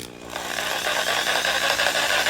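HYCHIKA 18V compact cordless reciprocating saw starting up after a brief quiet moment, then running with a loud, steady buzzing whine and a fast pulsing rhythm close by.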